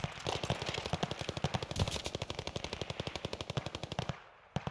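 Rapid automatic gunfire from a strafing attack in the Snoop Dogg Arms Race video game. It rattles in an even burst of dozens of close, punchy shots for about four seconds, then cuts off abruptly.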